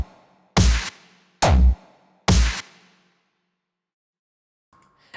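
Three heavy, evenly spaced drum hits with a mono kick and a wide stereo snare land close and punchy, each decaying quickly into near silence before a faint tone at the end.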